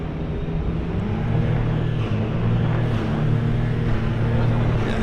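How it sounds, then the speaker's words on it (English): Race cars warming up in the pit lane at the Dubai 24 Hours race, a steady low engine rumble heard from a distance as a constant background drone. "You can hear in the background the cars are warming up."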